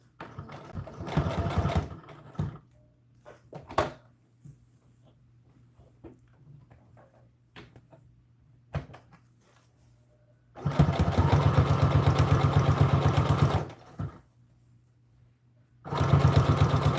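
Sewing machine backstitching over a seam on a doll dress, with short whirring bursts, a long steady run of stitching and a final burst, separated by quiet pauses with light clicks.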